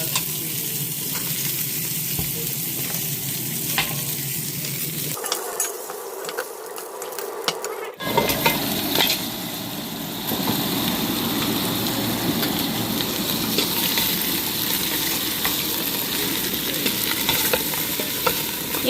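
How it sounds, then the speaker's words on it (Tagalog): Pork frying in a pan to brown before being boiled, a steady close sizzle with stirring scrapes throughout, briefly dropping off for a couple of seconds before resuming loudly; no talking. "Piniprito ko muna yung pork para magkakulay bago ko siya pakuluan."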